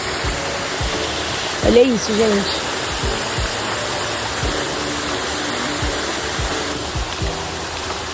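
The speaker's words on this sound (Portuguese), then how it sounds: "Cachoeira do Escorrega." The Cachoeira do Escorrega waterfall pours in a steady, broad hiss of falling water that fills the whole scene, while a person speaks briefly over it.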